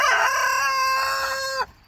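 A Wyandotte rooster crows once in a loud, close, sustained cock-a-doodle-doo with a strong harmonic tone that cuts off sharply at the end, heard alone on a backyard farm with no talk.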